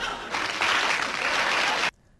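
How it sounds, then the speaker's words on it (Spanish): Loud applause from a studio audience at a Spanish political talk show, a dense continuous clatter of clapping that swells, holds steady and then stops abruptly. "Fuerte el aplauso."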